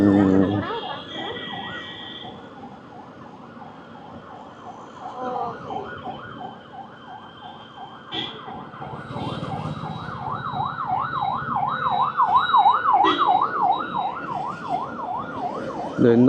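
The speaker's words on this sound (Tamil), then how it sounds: "ஆம்புலன்ஸ் வராப்புல பின்னாடி, ஸோ கொஞ்சம் வேகமாக போயிட்டு அவருக்கு வழி விட்ருவோம்." Ambulance siren wailing on the road behind a UV X47 motorcycle, its rising and falling tone growing louder as it closes in, over engine and road noise.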